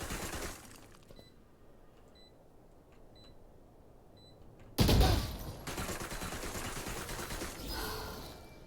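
Rapid automatic gunfire in Valorant on hard difficulty, a sharp loud burst of shots breaking out after a stretch of quiet game ambience and beeps, then sustained dense firing.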